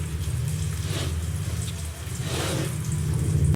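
Water poured into a cooking pan for Maggi noodles, a steady running and splashing hiss that continues for a few seconds at close range, with a low hum underneath and no talk.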